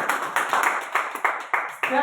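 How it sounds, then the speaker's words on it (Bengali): An audience at a Star Diamond celebration claps in a rough, repeated rhythm for its leader, the bursts close and fairly loud, with speech mixed in. "করতালি হবে ভাই, করতালি আমাদের লিডারের জন্য জানো।"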